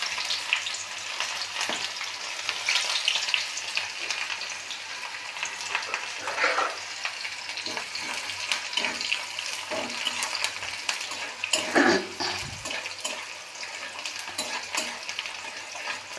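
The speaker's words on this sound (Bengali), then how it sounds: "কালো সর্ষে দেওয়ার পরে আমি পেঁয়াজ কুচি দিয়ে দিলাম।" Chopped onion frying in hot oil with black mustard seeds, a steady close sizzle with occasional stirring scrapes and clinks from a utensil against the pan, no voices.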